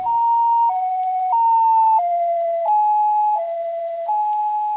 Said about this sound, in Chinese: 吵死了！警车来了，我是要报警还是赶快先逃啊？